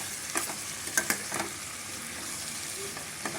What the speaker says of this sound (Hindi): इसको तेज़ आंच पे भूंजी हूँ मैं।